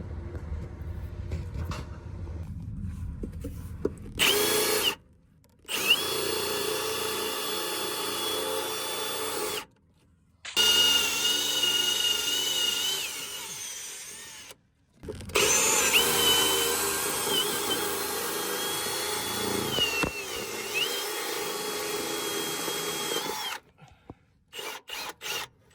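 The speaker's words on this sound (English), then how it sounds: "we need to drill through this" A power drill bores up through tough 1970s wood in a finished basement ceiling, whining loudly in several long bursts of several seconds each, separated by brief silent pauses as the trigger is released, with pitch sagging under load.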